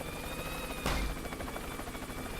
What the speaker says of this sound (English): So we're now in our second helicopter